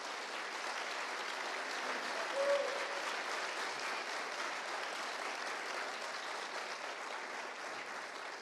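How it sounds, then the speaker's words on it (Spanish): An audience at the opening of a cannabis summit in Mexico gives sustained applause that holds steady for several seconds. "Un fuerte aplauso."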